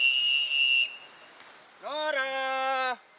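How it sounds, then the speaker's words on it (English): Search teams blow whistles in the Malaysian jungle: a steady high whistle tone, then after a short gap a louder, sharper whistle blast that rises in pitch and holds for about a second. "search teams blew whistles and called out Nora's name"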